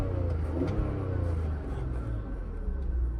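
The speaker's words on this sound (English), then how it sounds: "So yeah, I'll give it one more rev because I just love the sound." Straight-six petrol engine of a 2005 BMW X3 2.5i revving, a fairly quiet, low, smooth rumble that swells and settles over a few seconds.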